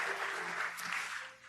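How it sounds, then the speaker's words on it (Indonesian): A church congregation applauding during an evening prayer service, a dense, even burst of clapping throughout, moderately distant and soft, fading slightly at the end. "Beri tepuk tangan buat Allah kita, amin."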